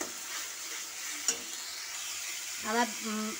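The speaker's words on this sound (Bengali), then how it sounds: "পেঁয়াজ বাটাটা দিয়ে আমি ভালো করে নেড়ে চেড়ে নেব যতক্ষণ না কাঁচা গন্ধ যাচ্ছে" Onion paste being stirred in a hot pan with frying spices, a soft steady sizzle broken by a sharp scrape of the spoon and a louder flurry of stirring toward the end.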